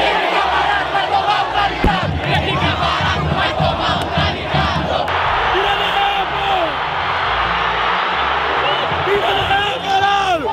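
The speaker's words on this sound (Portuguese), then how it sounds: "A torcida grita, você acredita?" Packed crowd of football supporters at a Brazilian Série D final stadium, roaring, chanting and cheering loudly and continuously, with whistles and shouts rising above the dense wall of voices.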